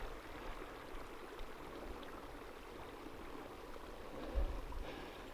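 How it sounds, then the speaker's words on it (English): A small mountain creek in the Pecos Wilderness flows steadily with a soft, continuous rushing wash, quiet and fairly distant, with no voices. "I just crossed a little creek"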